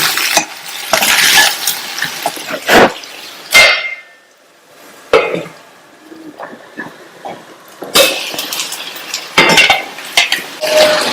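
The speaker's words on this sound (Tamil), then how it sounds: "வெந்துட்டு இருக்கும் போது இடையில ஓபன் பண்ணி இந்த மாதிரி கலந்து விட்டுக்கங்க." Spoon stirring potatoes with masala in a pan, a series of loud scraping and clinking strokes in irregular bursts with short quiet pauses between, close up and alone.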